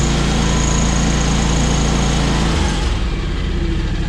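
A John Deere X585 lawn tractor engine running loud and close at high throttle, a dense steady drone that drops to a lower, rougher note toward the end, with no voices.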